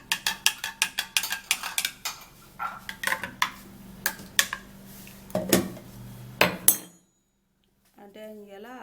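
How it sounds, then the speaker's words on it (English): Cucumber belly fat drink being stirred: a quick, close run of sharp clinks and knocks that stops abruptly, followed by near silence and a faint sound at the very end. "then you give it a little stir."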